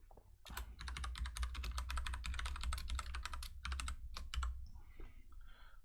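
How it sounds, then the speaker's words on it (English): Rapid, close keyboard typing on a computer, with a dense run of crisp key clicks for several seconds before a few final taps and a pause, all without talking. "if I can ever learn to type"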